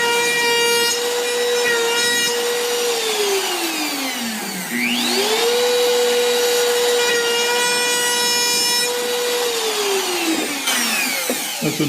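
A saw cuts into wood while an offset bowl is turned, giving a loud, steady whine whose pitch glides down as the blade slows and climbs back as it speeds up again, twice over, with no speech.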